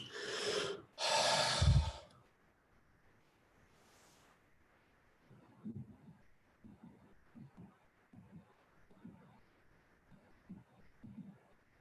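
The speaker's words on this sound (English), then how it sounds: "And breathing into all your organs and release through the breath." Slow breathing during a guided breathing exercise: two loud, close exhalations at the start, then a long series of soft, rhythmic breaths that continue faintly and evenly.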